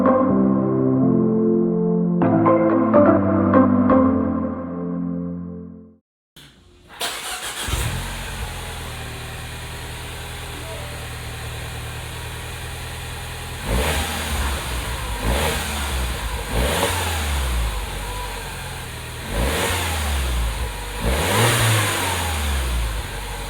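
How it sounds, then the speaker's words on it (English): A Mini's car engine idles steadily, then revs hard several times in a row, loud and close, with no one talking. "So let's do before and after of the revving of the car."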